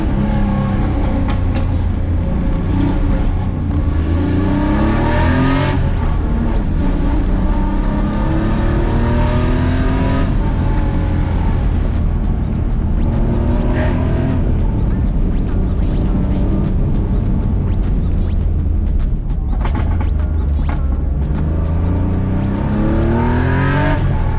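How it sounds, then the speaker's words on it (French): A Porsche 911 engine with straight-pipe exhaust revs and accelerates loudly with a harsh, raspy note, pitch rising and falling across repeated throttle blips, close and continuous. "il l'a mis en full tube pour qu'elle fasse du bruit quand t'accélères"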